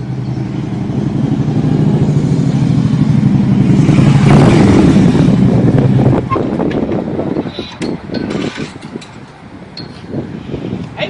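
Motorcycle fitted with aftermarket exhaust pipes revving nearby, a steady loud engine roar swelling to a peak midway before dropping into rougher, choppier bursts and idling.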